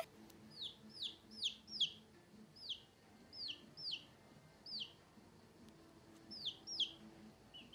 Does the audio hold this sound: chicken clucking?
yes